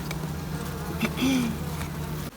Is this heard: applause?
no